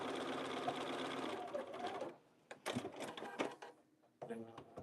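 A sewing machine stitches a scrap-fabric piece in a steady close-up run of about two seconds, then a pause and several short stop-start bursts, with a person talking.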